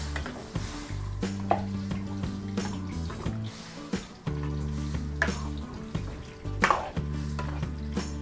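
Vegetables are stirred in simmering broth, with a bubbling sizzle and repeated scraping strokes of a utensil against the pot over a low steady hum, close and fairly loud.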